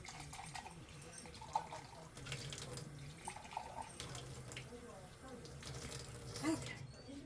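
Tap water runs steadily into a sink while a glass canning jar is rinsed of soap, close and moderately loud, with soft clinks and splashing shifts as the jar moves under the stream.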